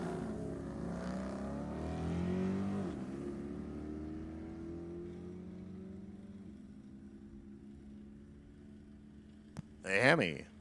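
A Hemi-powered drag racing car at an NHRA Pacific National Open event in Sacramento roars off down the strip, its engine note rising and then fading into the distance, heard from a distance with crowd ambience.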